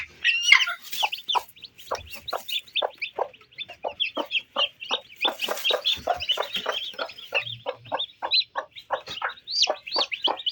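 Village chickens cluck in quick, rhythmic bursts after being set down, a steady run of close, clear hen calls with a few higher squawks and no talk.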